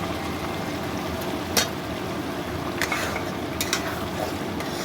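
Chopped tomatoes, green chilies and spices frying in oil in a pan for a quick chicken dish, a continuous soft sizzle with occasional stirring scrapes, close by with no talking.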